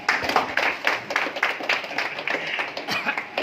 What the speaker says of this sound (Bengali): বাবুর জন্য একবার জোরে হাততালি।